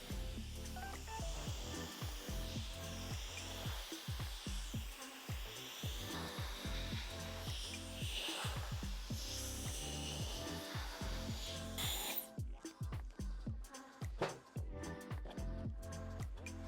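A hair dryer blows steadily and loudly at close range, drying hair roots, its roar shifting slightly as it moves, then briefly cutting out and restarting near the end.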